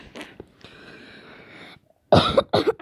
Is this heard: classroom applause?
no